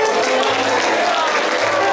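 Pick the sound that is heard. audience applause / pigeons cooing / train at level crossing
audience applause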